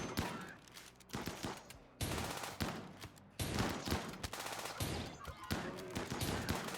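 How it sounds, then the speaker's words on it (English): Shotgun fire in a RimWorld colony battle crackles in dense volleys of repeated blasts over several seconds, with bursts pausing briefly between salvos, loud and sustained. "Yeah, they have shotguns"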